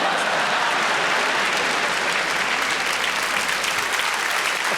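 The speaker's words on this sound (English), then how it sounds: "Applause" A comedy show audience breaks into sustained applause, a thick, even roar of many people clapping together that holds steady throughout without any voices on top.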